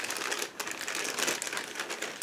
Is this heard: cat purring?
no